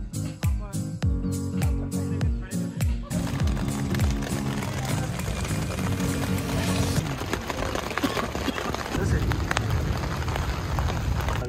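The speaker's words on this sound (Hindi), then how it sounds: "बारिश शुरू हो गई है, शेड के नीचे पहुँचें जल्दी से" Heavy rain mixed with hail pounds a shelter roof during a mountain trek to Miranjani Peak in Pakistan, a loud dense continuous roar with sharp impacts and clattering in the first seconds.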